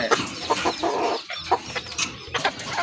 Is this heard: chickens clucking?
yes